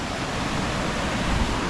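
A waterfall pours beneath a suspension bridge, a loud, unbroken broadband rush of falling water that fills the whole stretch evenly with no talk over it.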